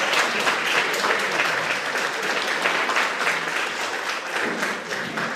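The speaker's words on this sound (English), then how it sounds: "let's give the Algonquin students and Catherine Waters one more round of applause" A luncheon crowd at a senior center applauds visiting students and their teacher, with dense, steady clapping that fills the room evenly and carries on for over five seconds.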